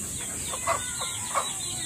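Chickens cluck softly a few times in short bursts over a steady high-pitched background hiss.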